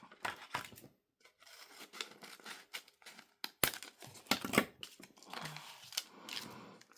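Scissors cut paper for a junk journal tag book, close and fairly quiet, in a series of short irregular snips with paper rustling and crinkling between them.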